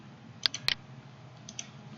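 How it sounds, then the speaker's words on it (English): A computer mouse clicks a couple of times in quick succession, sharp and close, over a quiet basement room hum, followed by fainter softer clicks. "We could draw a line"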